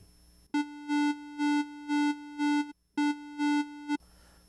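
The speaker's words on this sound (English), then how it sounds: "it's just the way the pulse sounds." A pulse preset on the Baby Audio BA-1 synthesizer sounds as a steady buzzy tone with rich harmonics, pulsing in a regular rhythm of repeated swells, breaking off briefly, then resuming for two more swells before stopping.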